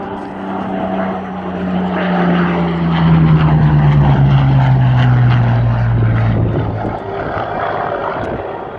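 A Supermarine Spitfire fighter flies past at the Southport Air Show 2016, its loud propeller engine droning steadily as the pitch slowly falls while it passes overhead and moves away.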